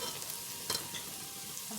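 Onions and chopped greens fry in a pan with a soft, steady sizzle while a spoon scrapes through them once, briefly and close by, in a quiet short moment.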